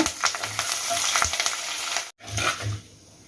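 Cumin seeds spluttering in hot oil with curry leaves, a dense crackling sizzle and occasional pops and stirring clatter, cut off briefly by a short gap before fading to a gentler frying hiss.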